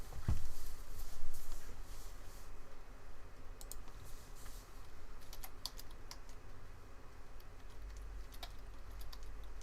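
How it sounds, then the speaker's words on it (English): Clicky keys of a computer keyboard being typed on in bursts, fairly faint under a low background hum, with scattered taps spread across the stretch. "You have to type that in."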